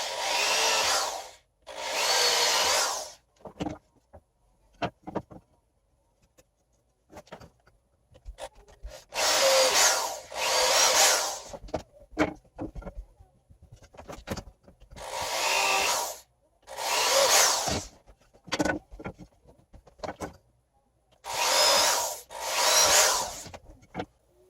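A power drill drives drywall screws into wood while building a simple child's table, in loud, close bursts of one to two seconds, often in pairs, with brief handling noise between.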